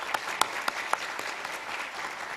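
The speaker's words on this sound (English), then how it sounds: "Round of applause, please." A brief, fairly faint round of applause at a medical school white coat ceremony, with scattered individual claps standing out over a soft wash of clapping.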